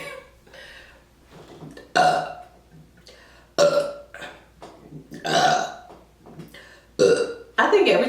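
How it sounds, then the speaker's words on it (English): Loud burps produced on command come in a series of separate bursts, several spaced a second or two apart, with quieter murmuring between them. "I think every time I do an on command burp or a burping video"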